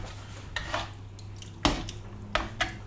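Metal clatter of satay being tossed in a pan, a few sharp scraping bursts spaced apart over a low steady hum.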